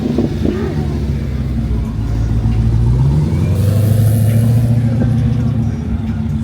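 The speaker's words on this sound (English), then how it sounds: "How do you like the new exhaust? Dude, it sounds 10 times better than what I had." A 900-horsepower Dodge Demon-powered Jeep with a new exhaust idles and revs nearby, a deep loud rumble rising and falling over several seconds, with people talking over it.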